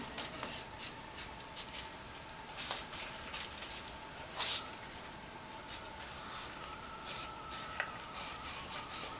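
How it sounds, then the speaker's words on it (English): A burnishing stick rubs the damp edges of a custom leather knife sheath for a Buck 119, giving soft, steady scraping strokes at close range with a few brief louder scuffs, and no talking. "get the edges damp or wet, and then use that burnishing stick on them"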